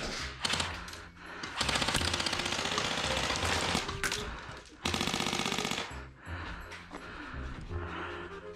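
Rapid video game gunfire rings out in bursts, dense automatic fire alternating with lulls, loud and close throughout, with music or game sounds mixed beneath.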